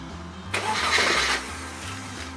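A brand-new starter motor cranks a car engine that runs on ethanol. One loud, whirring burst lasts just under a second, then drops back to a low steady hum.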